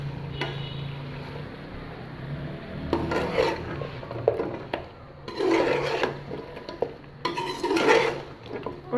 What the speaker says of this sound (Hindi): और थोड़ी देर के लिए हम इसको भूनेंगे, 2-3 मिनट के लिए।